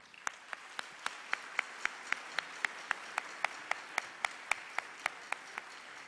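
Applause at a junior high school band concert, a steady rhythmic run of sharp claps, evenly spaced and fairly close, over a quieter background crowd.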